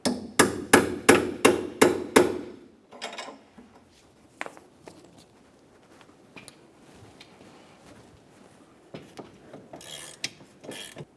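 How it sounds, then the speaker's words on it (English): Seven sharp metallic hammer blows drive a rusted stud in quick, even succession during rear coil spring work on a 2006-2011 Honda Civic, then scraping, clinking, and scattered softer knocks on metal. "I'll just use a hammer and drive it in."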